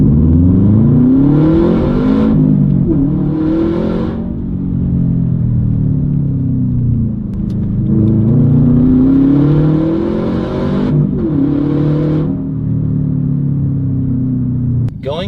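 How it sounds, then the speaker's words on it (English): A 2015 Subaru WRX STi engine in sport mode revs up and down repeatedly, a loud, close rumbling roar that climbs and falls in several sweeping waves with brief dips between. "revs it out higher. It doesn't start picking up speed, but it keeps it at a higher RPM and keeps the motor a little bit more on edge and agile"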